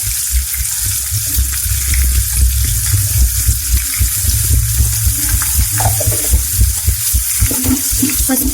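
Onions, green chillies and curry leaves fry in a pan, with a steady, close sizzle that runs the whole time. It has a watery, bubbling texture, with a few louder crackles and the scrape of stirring.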